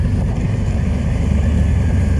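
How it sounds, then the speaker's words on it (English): Fresh wind sweeps over an open ridge, a loud, steady rush buffeting the microphone with no pauses over a couple of seconds. "Oh, some fresh wind."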